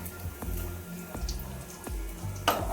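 Paneer frying in butter in a pan, heard as a faint steady sizzle with a few soft taps and clinks as pieces are lifted out, ending in a brighter scrape.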